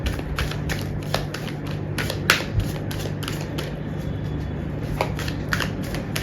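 Tarot cards are shuffled close by in quick, repeated riffling bursts, a crisp papery flutter that comes in rapid rhythmic flicks over a faint background hum.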